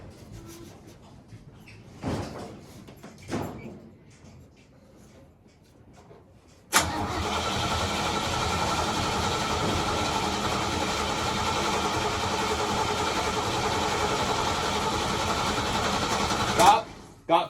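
A 1986 Chevy square body truck engine cranks and catches, then settles into a steady, loud idle that runs on for about ten seconds, after a few quiet knocks and brief talk nearby.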